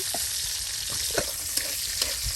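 Spices frying in a pan for a traditional Mymensingh beef curry, a dense steady sizzle up close with light stirring clicks and scrapes.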